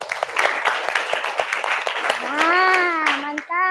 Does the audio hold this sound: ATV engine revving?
no